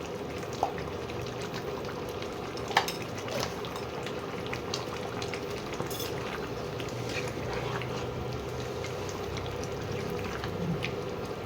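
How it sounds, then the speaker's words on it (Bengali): Chicken curry with garam masala simmers in a pot, a continuous close bubbling and gurgling at an even level throughout, with occasional small pops and spits. "গরম মশলা দিয়ে একটু ফুটিয়ে নামিয়ে নেব"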